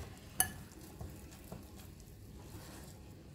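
Sifted brownie ingredients mixed in a bowl, giving a faint clink of a utensil followed by soft scraping taps in a slow, quiet rhythm, close by with no talking.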